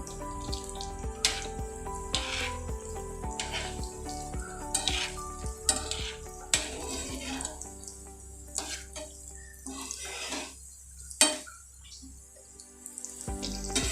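Stuffed bananas frying in hot oil and being turned over, a steady sizzle broken by repeated clinks and scrapes of a utensil against the pan, close and fairly loud, with no talking.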